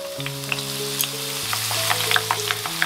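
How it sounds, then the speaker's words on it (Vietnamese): Lemongrass fries in hot cooking oil with a steady sizzle and scattered crackling pops. Background music plays with sustained tones underneath. "Em sẽ chiên cái phần sả này lên để cho cái phần dầu nó thơm cái mùi sả."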